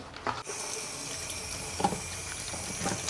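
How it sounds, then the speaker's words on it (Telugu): Korameenu fish are washed clean under a running kitchen tap, water splashing steadily into a sink with occasional knocks and handling sounds, close and continuous without speech. "శుభ్రంగా కడుక్కోవాలి ఎంత బాగా క్లీన్ చేసుకుంటే అంత బాగుంటాయి"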